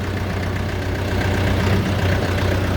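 A Shifeng 404 tractor's diesel engine, a 2023 model, idles steadily nearby, a low rumbling chug that stays constant throughout with no voices.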